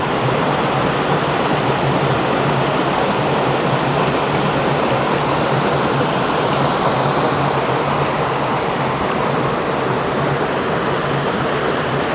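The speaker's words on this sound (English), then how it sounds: "just a little trickle of a stream coming down there" Rushing water from a small stream near Zealand Falls on the Appalachian Trail, a steady dense hiss and splash heard close and loud without pause throughout.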